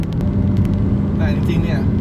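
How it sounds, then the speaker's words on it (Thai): A Mazda CX-30 engine rumbles and revs in sport mode, a steady low drone heard close with someone speaking over it. "ถ้าต้องการความแรงหน่อยต้องโยกสปอร์ตนะครับรอบจะดันขึ้นแล้วก็ค่อยมีความแรงหน่อย"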